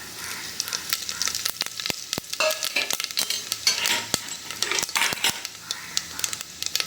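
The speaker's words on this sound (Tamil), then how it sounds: "எண்ணெய் நல்லா காஞ்சிடுத்து இப்போ இந்த பட்டை மொத்தம் சேர்த்துக்கலாம்" Cinnamon pieces frying in a little hot oil inside a pressure cooker give a light sizzle broken by sharp clicks and knocks of a utensil against the metal pot.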